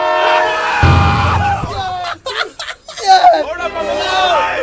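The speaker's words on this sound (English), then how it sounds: "The train's coming." In a video game, a train's horn blares in a long, sustained blast as the train passes, with loud engine rumble underneath and voices talking and laughing over it.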